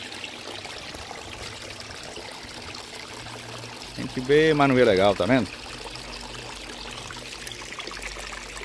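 Water in a tilapia tank is churned by two aeration pumps, giving a steady trickling, pouring rush throughout, with someone talking briefly over it midway.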